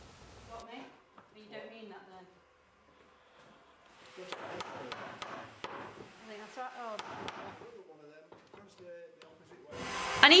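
Little wooden blocks are hammered in to hold gate boards in place at a woodyard: a quick run of about seven sharp, evenly spaced strikes amid talk and handling noise.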